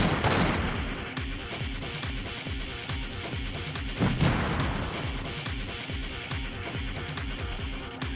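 Tanks and a railgun fire in the video game Metal Saga. Rapid, continuous booming shots repeat in a steady rhythm, with a heavier blast near the middle, loud and dense throughout.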